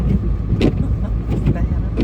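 A truck stuck in snow during a lake-effect snowstorm near Erie, with its engine running steadily throughout and a few bursts of noise over the top.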